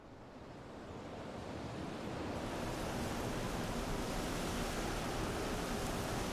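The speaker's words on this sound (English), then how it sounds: "Where did all this wind come from?" Steady broadband wind gusting through a Final Fantasy XIV game scene, building slightly over the first seconds and then holding as a loud, continuous rush with no voices.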